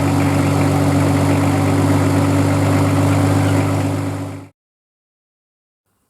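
A Nissan RD28 diesel engine with a Bosch VE injection pump idling steadily after pump timing, a deep, even rumble and rattle, then cutting off abruptly into silence.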